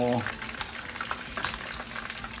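Fish frying in hot oil in a home kitchen, giving a steady, close sizzle with dense crackling pops throughout, and a short burst of voice at the very start.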